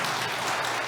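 A short burst of audience applause at a public forum, a dense, even patter of many hands, fairly close and heard alone.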